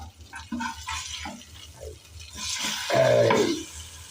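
Fish frying in a pan at home, a large fish, with stirring and scraping in the first half, then a louder burst of hissing sizzle near the end.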